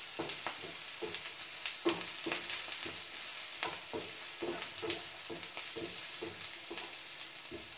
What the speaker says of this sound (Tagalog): Noon ako pong iginisa itong sa mantika yung beans dahil matigas yun.